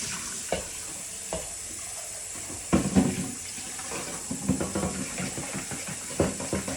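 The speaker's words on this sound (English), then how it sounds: "I'm just rinsing out my micro cook pitcher" Tap water runs and splashes into a Micro-Cook pitcher as it is rinsed, a close, uneven stream with clattering knocks and sloshes.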